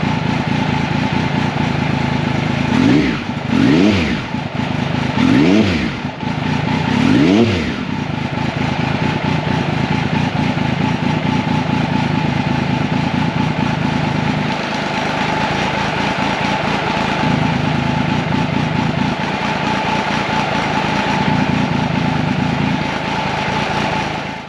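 An Italian engine runs loud and close, blipped through a few quick revs early on before settling into a steady, rumbling idle that holds to the end, with no talking.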